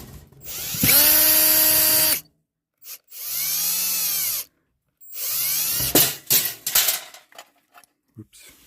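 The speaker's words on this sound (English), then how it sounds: "I'm just taking out all the screws that go around the perimeter." A power drill backs screws out around the perimeter of a water-damaged RV in three separate bursts of whining motor sound that rise and fall in pitch, up close, ending with a few faint clatters.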